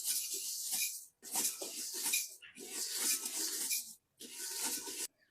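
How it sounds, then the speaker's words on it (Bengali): Dry rice grains being roasted and stirred in a pot, a steady bright scraping rattle in four long bursts separated by brief pauses, fairly loud and close with no voices. "এবার আমি চালগুলো হাঁড়িতে দিয়ে ভেজে নেবো।"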